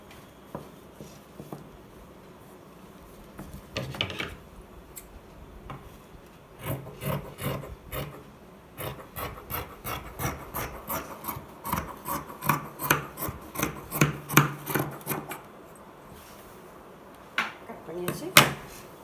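Scissors cut through a fabric piece for a pillow cover, producing a long run of close, rhythmic crisp snips that speed up and grow louder, with someone talking in between.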